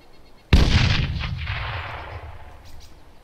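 A single heavy gunshot or artillery-like blast in a military video game cracks out sharply and rolls into a long fading echo, standing alone with no talk.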